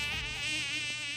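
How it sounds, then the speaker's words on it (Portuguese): A mosquito buzzes in a thin, continuous high whine that stays close and steady, with nothing else heard. "Ah, esse zumbido."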